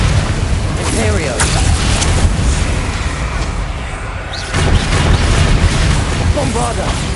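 Explosive Bombarda spell blasts from a wizard video game boom loudly over dense, continuous game noise and shouted spell names, with a brief quieter dip partway through.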